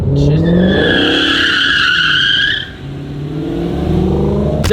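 A Dodge Hellcat Redeye screams as its tires squeal hard, loud and close, with a rising engine roar that dips for a moment, then climbs again.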